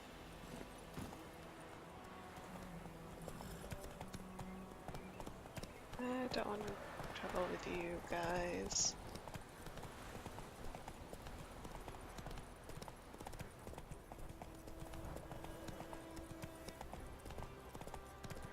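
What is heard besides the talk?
horse hooves clip-clopping in video game Witcher 3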